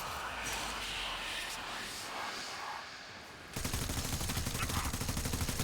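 Rapid weapon fire in the video game Warframe, a dense stream of quick shots that starts abruptly partway through after a quieter stretch of steady game noise.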